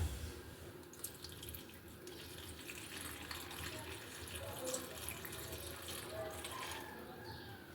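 Salt water is poured over cucumbers in a container for pickling, giving a steady, close splashing and trickling that runs throughout with small clinks, and no talking.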